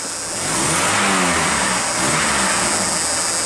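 A 1988 Dodge Dakota's 2.2 liter four-cylinder revs loud and close through a loose muffler that makes it sound straight-piped. The raspy, blatty exhaust roar rises and holds steady for a few seconds.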